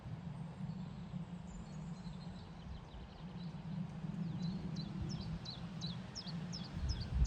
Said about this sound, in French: J'espère que vous entendez les oiseaux.